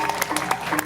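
Audience applause bursts out at a stand-up comedy show, a short, dense spatter of clapping lasting under a second.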